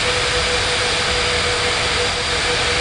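A Speedbird jet taking off in an air traffic control game gives off a loud, continuous jet engine roar with a steady high whine, an unbroken wall of sound throughout.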